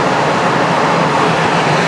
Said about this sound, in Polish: w tle pociągi jeżdżą